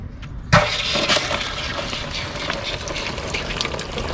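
Water pressure is released from an RV water heater with a sudden sharp burst, then a continuous hissing gush and spatter of running water that lasts throughout.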